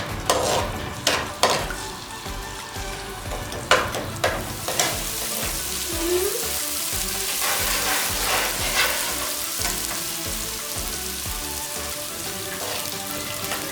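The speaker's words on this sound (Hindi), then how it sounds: "फिर हम इसमें अदरक लहसुन का पेस्ट डालेंगे। इसको हल्का सा सोक करना है।" Ginger garlic paste sautéing in a pan for a dhaba-style daal maash, a steady sizzle with scattered sharp clinks and scrapes of a spoon against the pan, especially early on.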